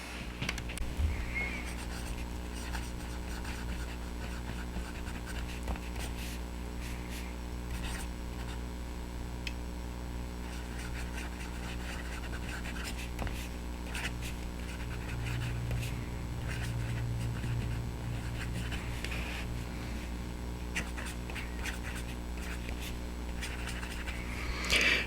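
A double broad fountain pen nib glides across paper, scratching faintly and continuously up close over a steady low background hum.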